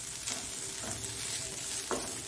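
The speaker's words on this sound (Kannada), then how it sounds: "ತೆಂಗಿನಕಾಯಿಯನ್ನು ಸ್ವಲ್ಪ ನಾನು ಇದರಲ್ಲಿ ಫ್ರೈ ಮಾಡ್ಕೊಳ್ತೇನೆ" Grated coconut frying in a pan with turmeric powder for a Mangalorean chickpea sukka, giving a steady close sizzle with a few brief stirring scrapes and no voices.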